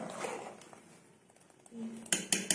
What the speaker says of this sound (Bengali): ঢাকাটা তুলে নেব